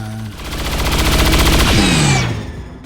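Automatic weapon fire from a reaction shot in the video game XCOM 2, a loud, continuous burst of rapid gunfire that builds, holds for about two seconds, then cuts off with a descending whine.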